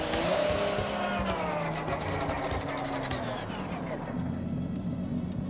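A Toyota Supra in the racing game Forza Horizon 6 revs hard and loud, with its engine pitch climbing and shifting through gears and some tire noise over a continuous roar.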